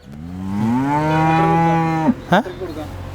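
A black dairy cow, a first-calf heifer at a large cattle farm in Palakkad, gives one long, loud, close moo lasting about two seconds, followed by a couple of short grunts.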